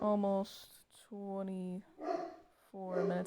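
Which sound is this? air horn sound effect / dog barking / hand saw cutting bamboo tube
dog barking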